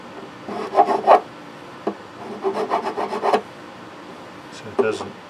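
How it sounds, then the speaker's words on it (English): A fret eraser rubs along the frets of a 1977 Yamaha FG-365S acoustic guitar in a few short scrubbing bursts, close and fairly soft, separated by pauses. "Favorite little tool for taking care of this is the fret eraser."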